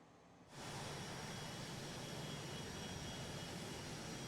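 Embraer Phenom 100 light business jet in Microsoft Flight Simulator 2020, a steady cabin jet-engine roar that cuts in abruptly after a short quiet moment and then holds even and unbroken.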